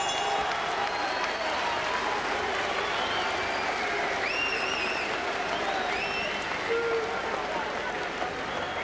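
Boxing crowd at the Eubank vs Thompson fight cheering for Eubank, a steady distant roar of applause and cheers with scattered whistles, continuous throughout under faint commentary voices.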